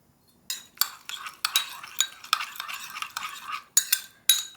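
Spoon stirring chopped green onion into a soy-based sauce for a mushroom rice bowl made with coconut oil, a run of close, distinct clinks and scrapes against the bowl at an uneven rhythm.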